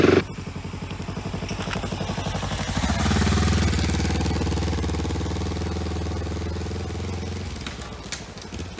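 A Kawasaki Versys-X 300 motorcycle engine idles with a fast steady putter, then revs up as the bike rides off, droning evenly before easing down near the end.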